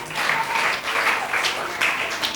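Children in a Vacation Bible School devotion class clap together, a brief burst of irregular, lively group clapping that pulses in a few waves close by.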